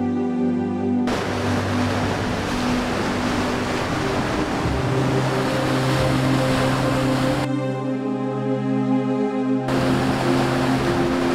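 Sea waves surging onto a beach at Jebha, Morocco, a constant loud wash of surf with wind, broken by brief tonal interruptions from a passing engine or boat.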